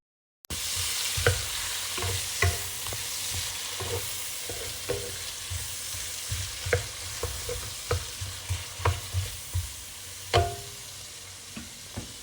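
Tomatoes and onions sizzle in a pan for a Filipino mung bean stew, a steady frying hiss broken by regular clinks and scrapes of stirring, close and clear with no talking.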